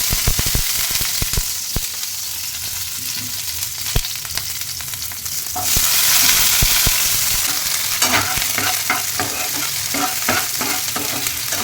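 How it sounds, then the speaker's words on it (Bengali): Onion, ginger and garlic fry in hot oil left over from frying paneer, a steady close sizzle with scraping stirs that grows louder and denser midway, with no voices. "আদা, রসুন সব ভেজে নেবো।"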